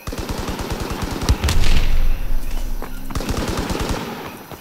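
Rapid machine-gun bursts and rifle fire from the World War II shooter Call of Duty WWII on PlayStation, a loud, dense clatter of repeated shots with a heavier volley in the middle, steady and close throughout.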